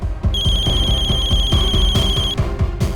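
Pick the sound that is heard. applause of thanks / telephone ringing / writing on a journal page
telephone ringing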